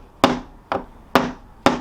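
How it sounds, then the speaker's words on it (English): Hammer tapping on a Lowe's kit wooden airplane fuselage: four separate woody knocks at a steady, unhurried pace, close and moderately loud. "I need you to hammer right there, okay?"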